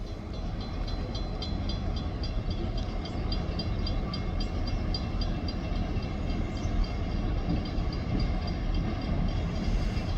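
GP38-led freight train rolling past in the rain, a continuous low rumble of wheels and cars with faint repetitive rail clicks above, steady and fairly close, no voices.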